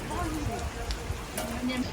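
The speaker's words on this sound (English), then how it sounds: "I made it. Very rainy. My feet are soaked." Steady rain falls on the streets of Warsaw Old Town, a continuous patter that keeps going underneath intermittent nearby talking.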